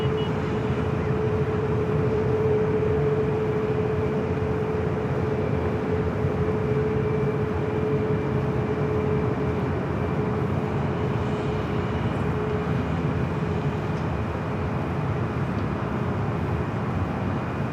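Jet aircraft noise at Los Angeles LAX airport, a steady, continuous roar with a sustained whine holding throughout, heard from a distance with no talk.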